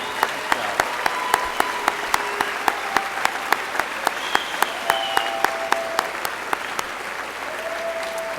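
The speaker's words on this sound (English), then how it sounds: "let's give them an outstanding round of applause and congratulate them" Audience applause at a 2014 high school graduation ceremony for W.F. West scholarship students, a steady wash of many hands clapping filling the hall at moderate volume with no speech over it.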